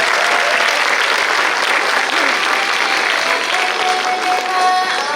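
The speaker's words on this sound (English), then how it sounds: "let us not forget to continue to applaud loudly and with pride throughout the ceremony" Sustained applause from a large audience fills a school graduation ceremony at TSRS Aravali, a dense, even wash of clapping that stays loud and unbroken from start to finish.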